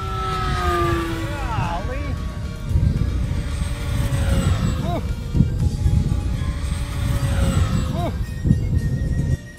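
A Tower Hobbies P-51D Mk II RC warbird in "Miss America" livery, flown at half throttle, whines steadily overhead as its pitch rises and falls with each pass, while people talk excitedly nearby.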